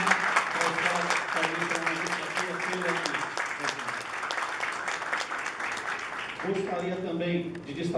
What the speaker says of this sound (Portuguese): Eu peço a todos uma salva de palmas.